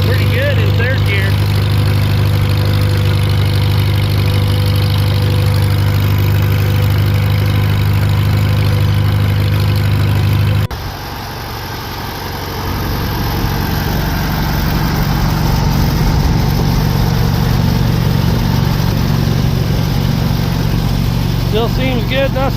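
A Farmall M tractor engine pulling a load in third gear gives a loud, steady low rumble that briefly dips and changes tone midway before building again, with someone talking over it.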